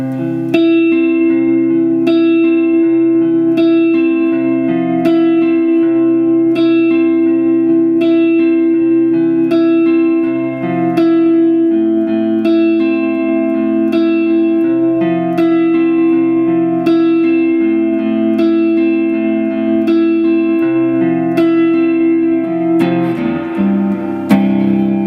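Guitar playing the third verse of a song with clean, sustained ringing chords and a steady repeating pick pattern, loud and close without any talking.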